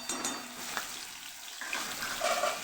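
Cumin seeds splutter and hiss in hot oil in a kadai, a steady close frying crackle with a faint pop or two over it.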